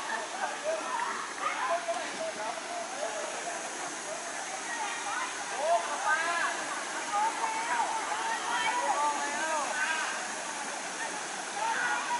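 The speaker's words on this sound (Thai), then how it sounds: "นี่ก็เป็นอีกมุมหนึ่งของน้ำตกนะครับ" Steady broadband rush of water pouring at Jed Sao Noi waterfall in Thailand, a continuous close wash with splashing, while faint chirping birdsong rises over it.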